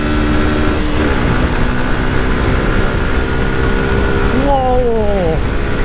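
A Suzuki Gixxer motorcycle engine revs up with rising pitch, loud and close, gears shifting as it accelerates, with steady road and wind roar throughout.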